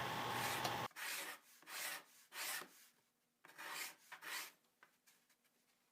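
Repeated scraping strokes of a tool against wooden banding on a handmade guitulcimer, rhythmic rasping passes close and fairly loud, each stroke separated by brief quiet gaps, with no voices.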